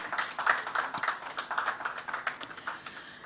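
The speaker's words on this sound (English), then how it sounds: "A round of applause for our clients who are with us here today" An audience at a banking mobile app product launch claps for the clients present, a close, fairly light patter of individual hand claps without any voices.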